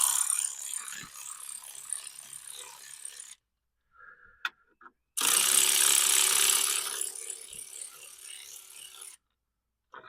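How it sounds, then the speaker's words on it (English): A 3/8 ratchet with a 10mm swivel socket removes bolts in the engine bay of a Subaru Impreza with an EJ22 engine, giving close, rapid clicking bursts separated by short pauses. "I'm going to use a 3/8 10mm swivel socket. I'm going to go ahead and take this off and get it out of my way."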